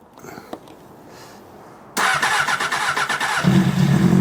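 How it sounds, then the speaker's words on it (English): A cafe racer motorcycle, not run in about three years, cranks and fires up on choke after a quiet stretch, its engine catching abruptly and then running loud and rough close by, with a deeper rise in idle toward the end. "Let's see if she fires up. Let's give her a little bit of choke."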